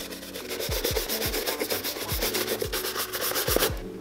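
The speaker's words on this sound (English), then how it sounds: "Now we're just gonna take the brush, we're gonna buff these off a little bit more" A brush buffs leather dress shoes after shoe cream, quick back-and-forth rubbing strokes in an uneven rhythm, close and fairly soft, with no one speaking.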